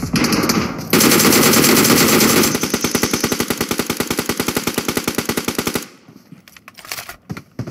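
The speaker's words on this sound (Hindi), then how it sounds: "वो गोली चलाते हैं तुरंत रीलोड मार लेते हैं" Loud rapid gunfire from the PUBG video game, with a dense burst followed by a long run of evenly spaced automatic shots, then sporadic softer clicks and pops near the end.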